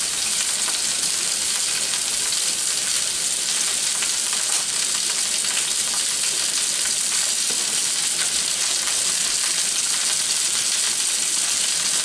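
Food browns in a hot pan with a loud, steady sizzle and frying hiss that holds unbroken for about twelve seconds, close up and alone.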